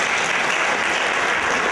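Audience applause at a youth ball of the Trnava archdiocese, a steady dense wash of clapping from a crowd, loud and continuous throughout without any voices.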